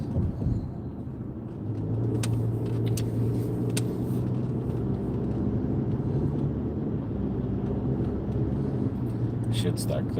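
Steady low rumble of a car cruising on the I-4 highway at night in heavy traffic, a continuous close engine and road drone with occasional faint clicks, people talking quietly inside.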